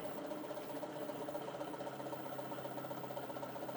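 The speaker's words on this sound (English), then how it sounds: "the wheel's picking up speed" A small wheel in a relay circuit, driven by a signal generator and a 12-volt battery, spins with a faint, steady mechanical whir and rapid rhythmic ticking like a sewing machine.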